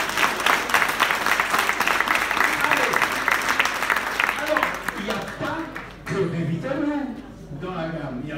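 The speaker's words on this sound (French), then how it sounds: "on applaudit s'il vous plaît" Audience applause at a talk presenting a health product, loud dense clapping that fades around six seconds as a voice begins speaking over the tail.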